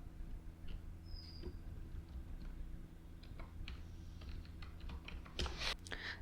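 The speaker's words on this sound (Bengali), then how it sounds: "এখানে সার্চে এসে আমরা সিজে ড্রপশিপিং লিখে দিলাম" Fingers tap a computer keyboard while entering a search query, soft scattered keystrokes over a low background hum, growing into a quicker cluster of clicks toward the end.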